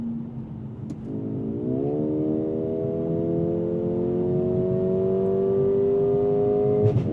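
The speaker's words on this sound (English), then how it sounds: "every time I get to that upshift and it just thwumps the overrun from that exhaust system." A 2024 Mercedes-AMG CLA35 accelerates hard, its engine note climbing steadily in pitch through a gear, with a sharp exhaust thump on the upshift near the end, heard from inside the car.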